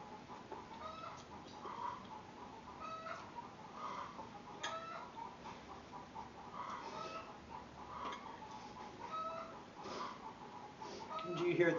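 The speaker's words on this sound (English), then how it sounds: "Do you hear the chickens?" Farm chickens clucking near a porch where hens are laying eggs, soft repeated clucks scattered through steady background noise, with a person talking faintly at times.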